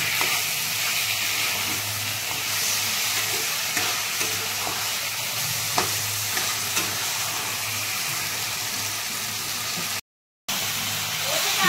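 Chicken meat for coriander chicken frying in a pan, a loud, continuous sizzle with soft stirring scrapes throughout, a brief silent gap near the end.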